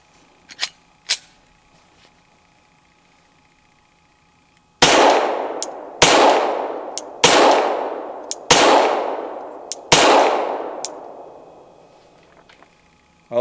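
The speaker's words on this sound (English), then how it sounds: "Let's fire a few rounds from this unsuppressed" Five loud unsuppressed gunshots firing 147 grain Federal ammunition, sharp cracks with long ringing decays spaced about a second apart, after a few faint metallic clicks and near silence.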